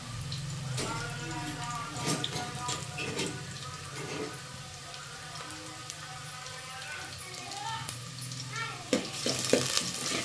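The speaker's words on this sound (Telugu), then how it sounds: "ఉల్లిగడ్డలు నూనె అంతా మంచిగా గోరుతున్నాయి." Sliced onions sizzle and crackle in hot oil for a Telugu ponnaganti leaf curry, a steady frying hiss with occasional stirring clinks, close and moderately loud, with a voice speaking over it at times.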